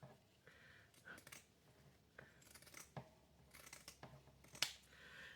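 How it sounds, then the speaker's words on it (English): Scissors trim fabric for pockets, producing faint close snipping and cloth rustles in a quiet room, with one brighter metallic click of the blades near the end. "So let me go ahead and, again, trim this side."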